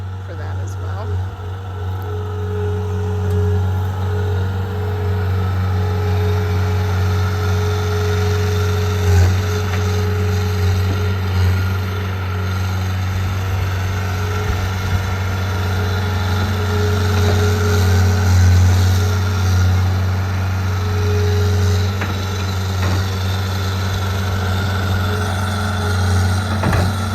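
Skid steer engine running steadily on a farm during garden prep, a continuous low diesel drone with a faint higher whine, heard over a long stretch with occasional small clatters.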